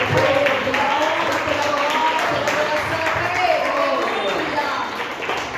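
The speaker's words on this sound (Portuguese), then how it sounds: "Glória a Deus, aplauda o Senhor." Clapping from a church congregation carries on as a dense, even wash of hands, with voices calling out over it throughout.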